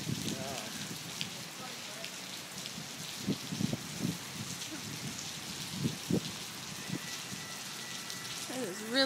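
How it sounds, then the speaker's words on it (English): Heavy rain pours steadily on a rainy 2014 day at PSU, a broad constant hiss with scattered drop impacts, while people talk and murmur nearby under the downpour. "It is really rainy."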